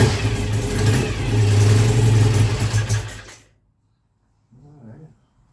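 A BSA motorcycle engine, firing on only one cylinder, runs loud and rough for about three seconds with a revving surge, then cuts out abruptly into silence before a brief faint sputter returns.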